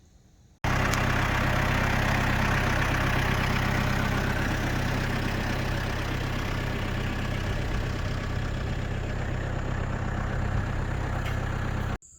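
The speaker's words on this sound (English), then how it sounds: "She's driving my tractor." A steady tractor engine runs continuously at a low, rumbling idle, starting abruptly and holding an even, loud drone throughout with no voices.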